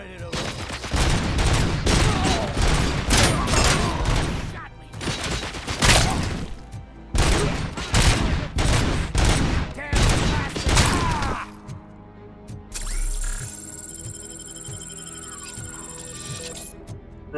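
Rapid bursts of gunfire from the first-person shooter Robocop: Rogue City, loud and near, several volleys separated by short gaps, followed by a quieter stretch with faint mechanical clicks and a high electronic tone.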